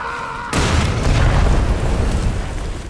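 C4 charges detonate in a film scene: a sudden heavy boom after a moment of quiet, followed by a deep, rumbling roar that stays loud and slowly fades.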